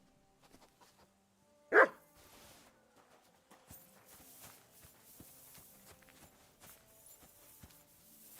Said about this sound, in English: You have a kind master, eh, Doggy?